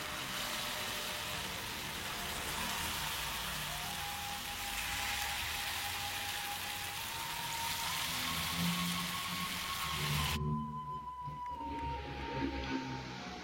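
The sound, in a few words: frying Minangkabau anak inti snacks in oil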